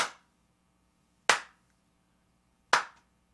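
Three sharp hand claps, close and loud, spaced about a second and a half apart, each with a quick decay into silence.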